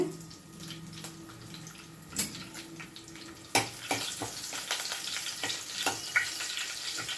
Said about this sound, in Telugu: కొంచెం అలా యాగనివ్వండి